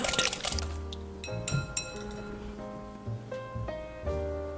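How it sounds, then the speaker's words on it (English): Applesauce and eggs whisked together in a glass bowl: bright, ringing clinks of the whisk against the glass in quick irregular taps, close and crisp, with a single brief word spoken. "applesauce, and our eggs, and we're going to whisk that together first"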